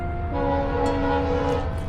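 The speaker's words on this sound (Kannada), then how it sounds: "ಹಾರ್ನ್ ಸೌಂಡ್ ಕೇಳಿಸ್ತಾ ಇದೆಯಾ?" Train horn sounding from a train approaching an underpass near a highway and the sea, a steady sustained blare held for about two seconds over rumbling rail noise.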